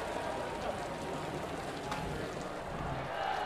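Rain falls steadily on a packed grandstand crowd at the MotoGP race in Mandalika, a continuous broadband hiss of drops with a faint murmur of spectators underneath, evenly loud throughout.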